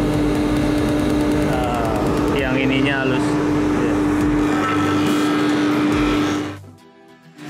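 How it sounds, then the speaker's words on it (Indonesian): An electric power sander whirs steadily and loudly on a woodworking surface, with a brief voice speaking over it, then the motor winds down and stops near the end. "ini namanya amplas mesin ya"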